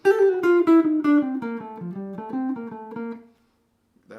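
A jazz guitar plays a run of quick plucked notes in rapid sixteenth-note triplet groupings, descending then rising, clean and close, ending in silence before a brief noise.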